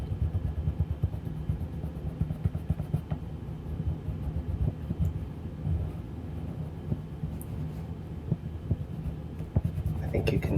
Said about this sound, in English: And notice the sounds that the pencils make.